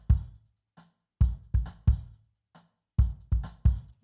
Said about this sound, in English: So we can take a kick drum part,